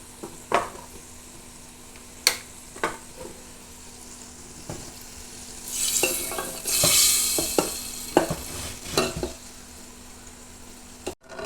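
Dal curry being stirred in a pan: a spoon scrapes and knocks against the metal in irregular strokes over a soft frying sizzle, with a louder hissing surge midway.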